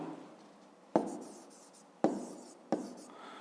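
Pen on paper as a maths answer is written down: three sharp strokes or taps separated by short scratchy writing sounds, close and quiet in a still room.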